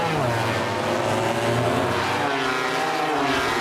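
Honda and Ducati MotoGP racing motorcycles scream past while accelerating hard out of a corner at the Japanese MotoGP, a dense rising engine wail that stays loud throughout, with commentators talking over it.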